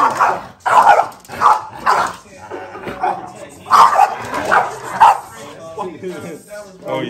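A French bulldog barks repeatedly in short, loud bursts outdoors on an Oakland, California street, with someone talking over and between the barks.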